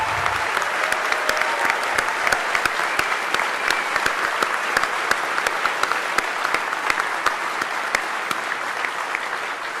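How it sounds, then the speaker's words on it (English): A large hacking-conference audience at closing ceremonies applauds, a dense continuous roar of many hands with crisp individual claps, steady and loud throughout. "everyone give them a round of applause"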